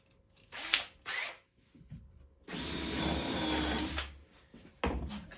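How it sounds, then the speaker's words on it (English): Two short bursts from a power drill driving screws into wood while a stepping stool is built, then a longer sustained run of about a second and a half, and a final short burst at the end. "Now I'm gonna put two screws."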